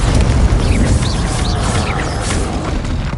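Bombarda spell explosions in the Hogwarts Legacy video game, a loud, dense booming roar with crackling bursts and whooshing spell effects layered over a sustained rumble.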